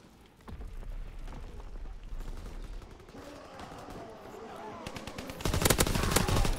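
Sniper rifle and automatic gunfire in the World War II shooter Call of Duty WW2, a steady burst of rapid shots with a louder, denser volley near the end, alone without talk.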